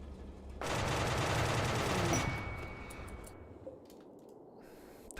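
A sudden, loud rattle of automatic gunfire from a RimWorld Anomaly colony battle, lasting about a second and a half before fading into a quieter tail with scattered faint shots.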